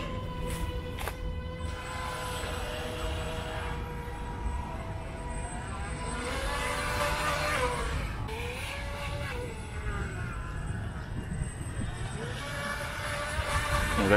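WLToys WL915 high-speed RC speedboat racing across water, its small motor giving a continuous high whine that rises and falls in pitch as it passes, heard from a short distance over a background of wind and water.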